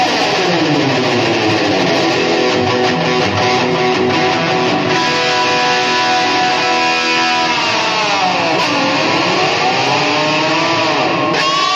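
A loud, distorted electric guitar, an EVH Wolfgang Standard through a 5150 III amp, sustains notes drenched in heavy reverb, with swooping pitch bends toward the end.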